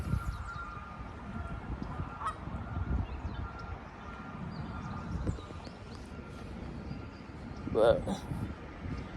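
Geese honking outdoors, with a few scattered calls and one clearer honk near the end, under steady background noise and people talking.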